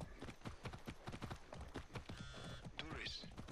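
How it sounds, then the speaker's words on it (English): Galloping hooves of a horse in Far Cry 6 beat out a quick, even rhythm, close and steady, with a brief game voice and sound effect near the end. "Instant horse."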